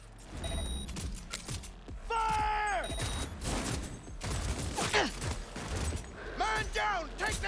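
Gunfire and mechanical clatter from a firefight in the video game Cyberpunk 2077, sharp bursts scattered across the stretch alongside electronic tones and game effects, with someone talking over it.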